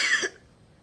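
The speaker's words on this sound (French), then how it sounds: "Désolée, j'ai toussé." A single short, sharp cough, close and fairly loud, followed by quiet.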